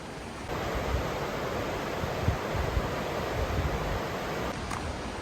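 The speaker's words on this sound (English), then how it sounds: "the river looks radically different. It is raging, it is roaring, it is brown now." Oak Creek in Arizona runs high and brown after weekend snowmelt, a steady broadband roar of rushing river water that stays loud and unbroken from start to finish, with no voices.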